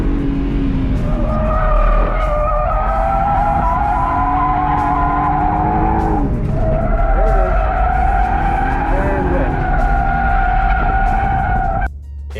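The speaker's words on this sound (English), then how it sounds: "One are figure 8 drifts." A BMW E36 M3 runs figure-eight drifts at a car control clinic, its engine droning loud and steady with rising and falling pitch and tires squealing continuously through the turns, up close for the whole stretch.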